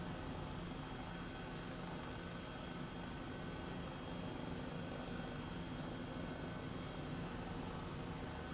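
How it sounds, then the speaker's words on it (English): Airbus H135 helicopter in Microsoft Flight Simulator, heard as a steady, continuous rotor and turbine drone with dense broadband noise, holding at an even level throughout with no speech. "Again, this helicopter is really cool."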